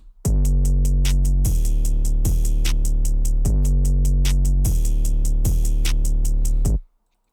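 A drum beat built from a single drum kit pounds along in a steady loop, deep booming kicks landing every bar under crisp, rapid hi-hat and snare hits, loud and alone before cutting off abruptly.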